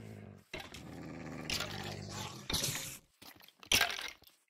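Wolves growl in Minecraft, in several rough, close bursts separated by short pauses. Each burst ends in a sharper snarl or crack.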